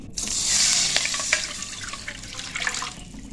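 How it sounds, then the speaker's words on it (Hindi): A cup of water is poured into a pan holding oil for samosa dough, giving a close, splashy, rushing pour that gradually settles into lighter trickling. "अब इसमें डालेंगे 1 कप पानी।"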